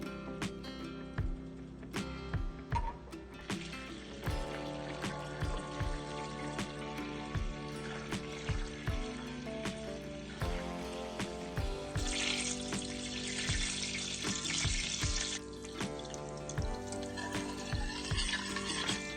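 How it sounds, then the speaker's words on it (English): Butter melting in a pan as its water evaporates for brown butter: scattered sharp pops and crackles, fairly faint and irregular, under steady tonal background music that runs the whole time. "Then you'll hear popping sounds as the water from the butter evaporates."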